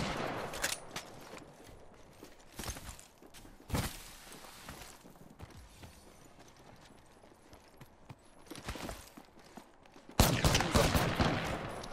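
Gunshots in an Apex Legends match, with sharp loud reports separated by gaps, scattered rapid clusters and softer shuffling between them, ending in a sustained intense burst of fire.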